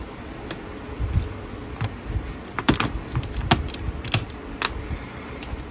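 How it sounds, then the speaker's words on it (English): Screwdriver turning the hinge screw that the barrel tilts on in a muzzle loader, heard as a run of sharp, irregular metallic clicks and ticks close up, with no talking. "Unscrew this screw, unscrew the hinge screw that the barrel tilts on."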